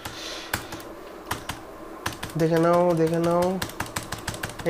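Clicky computer-keyboard typing during a network switch setup session: a run of scattered sharp keystrokes, a short spoken word in the middle, then more taps including an Enter key press, close and moderately loud.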